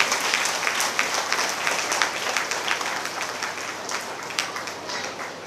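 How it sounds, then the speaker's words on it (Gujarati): An audience at a pre-primary and Gujarati-medium school's annual day celebration claps loudly, a dense, sustained round of crowd applause with no voices over it. "જોરદાર એકવાર તાળીઓનો ગડગડાટ કરાવી દઈએ"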